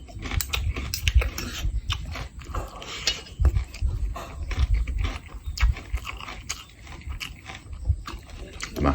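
Someone crunches and chews crispy food with khao kluk kapi, the bites loud and close, mouthy and irregular, with brief murmured voice sounds in between.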